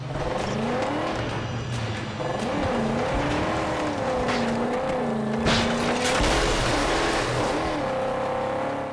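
Car engine droning and shifting pitch while driving in the Mad Max video game, continuous and fairly loud with wavering revs and a few thumps and tire noises, no talk.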